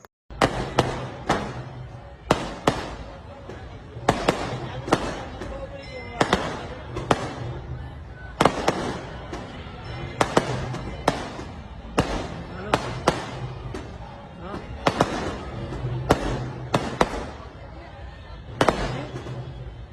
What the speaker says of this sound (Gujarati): ફટાકડા ફોડવાનો ટાઈમ આવી ગયો અને ભાઈ રાતના આકાશબાજી કરી